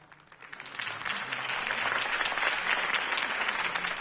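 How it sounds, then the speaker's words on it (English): A crowd applauds a campaign speech, the clapping starting thin and quickly swelling into dense, steady applause that holds at full strength, heard from within the audience. "If only Mr. Wayne, my campaign's largest backer, could have heard that applause"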